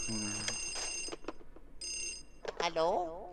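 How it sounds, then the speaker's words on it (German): A telephone rings in the video game Luigi's Mansion on the 3DS, two bright electronic ringing bursts with gaps between them, followed by a game voice and sound effects. "Warum klingelt das Telefon?"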